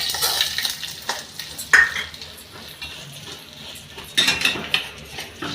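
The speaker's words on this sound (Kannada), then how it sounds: "ಶಾವಿಗೆ ನೀಟಾಗಿ ಕಮ್ಮಿ ಫ್ಲೇಮ್ ಒಳಗೆ ಹುರ್ಕೋಬೇಕು, ಸ್ವಲ್ಪ ಕೆಂಪಗೆ ಬರೋವರೆಗೂ" Vermicelli roasting in ghee over a low flame, with soft frying crackle and repeated spoon scrapes and clinks against the pan in uneven bursts.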